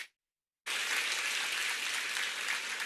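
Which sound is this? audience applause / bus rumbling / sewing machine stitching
audience applause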